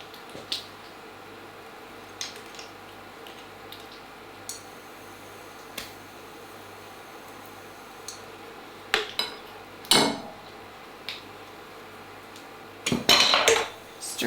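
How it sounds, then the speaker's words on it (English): A tablespoon stirs and mashes tomato puree into a slow cooker pot of coq au vin, giving scattered light metallic clinks and scrapes over a quiet background, with a few louder knocks toward the end and no talking. "Now we are going to stir in our tomato puree."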